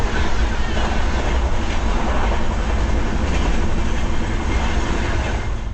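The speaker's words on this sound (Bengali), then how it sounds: "8:54 আমাদের ট্রেন ঢুকে পড়ল ব্রহ্মপুর স্টেশনে।" A train runs steadily near Brahmapur station in Odisha, with a dense, constant rumble and rattle of the carriages throughout, heard from inside.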